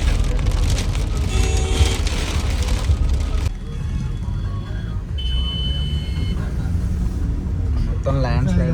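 Heavy rain in mountainous landslide country hisses steadily and loudly throughout, a dense wash of noise with no break.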